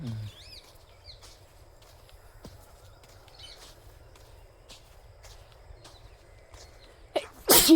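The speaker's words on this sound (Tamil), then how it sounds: "தும்மல் சரியில்லை." A single sneeze bursts out near the end, over faint outdoor ambience with light footsteps and birds near a rural road beside a temple and paddy fields.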